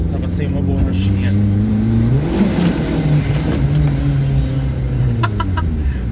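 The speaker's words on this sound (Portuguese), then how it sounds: "ele tá fazendo esse barulho que é o escapamento encostando em algum lugar" A Fiat Uno turbo with an intercooler drones loudly close by, its engine pitch rising and falling as it revs, with a rattling knock from the exhaust striking the car body mixed into the steady roar.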